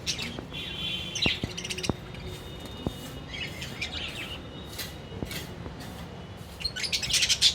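Small lovebird parrots chirp and tweet in a steady busy stream, with sharp high calls and brief squawks scattered over a soft background hiss, close and moderately loud with no talking.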